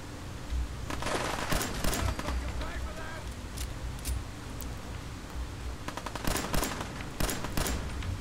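Bursts of gunfire in the video game Fallout 4, sharp cracks scattered through a noisy scene with rapid clusters near the start and end, while a person talks over it.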